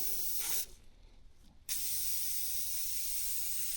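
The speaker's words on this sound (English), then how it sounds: "And I'm going to spray this over this trash can. I'm going to soak this thing pretty good." A cleaning spray bottle gives a soft, steady hiss as cleaner is sprayed onto a paper towel held over a trash can, then a short pause and a second longer hissing spray, close and quiet.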